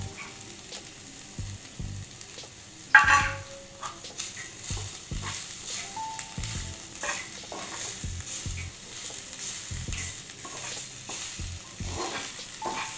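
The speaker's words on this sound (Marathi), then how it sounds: "हे खोबरं आता ह्याच्यामध्ये भाजून घ्यायचे।" Grated coconut and sesame seeds are dry-roasted in a pan, with soft intermittent scraping and stirring taps and a faint dry sizzle throughout.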